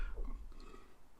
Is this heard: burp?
yes